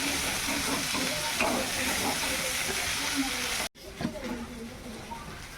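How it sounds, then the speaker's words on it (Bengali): Potatoes being sautéed with spices in a pan, a dense continuous sizzle and hiss up close with stirring, briefly cut off near the end before resuming more quietly. "মশলা দিয়ে এই আলুগুলো কষিয়ে নিচ্ছি"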